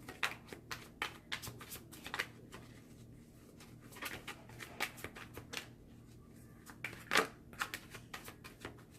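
Oracle cards being shuffled repeatedly, a run of quick crisp riffling snaps and flutters at close range, with faint bird cooing in the background.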